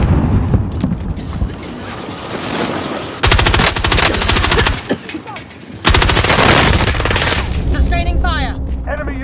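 Sustained machine gun fire in Call of Duty Warzone, loud rapid bursts in two long stretches separated by a brief lull, over game sounds and background chatter.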